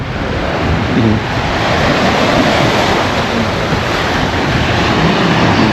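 Ocean waves washing up a sandy beach over writing in the sand, a loud continuous rush of surf and water close by, with wind buffeting the microphone and no voices.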